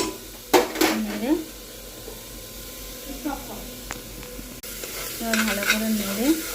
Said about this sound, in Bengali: এবার ভালো করে নেড়ে